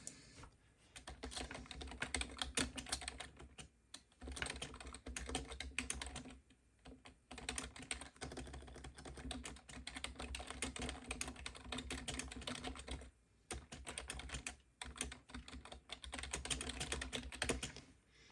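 Continuous typing on a computer keyboard, close and clear, with rapid clattering bursts of keystrokes separated by brief pauses, awkwardly reached around a tripod and camera.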